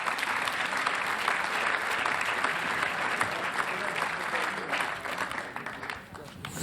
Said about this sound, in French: on peut l'applaudir, Francis Hoffman.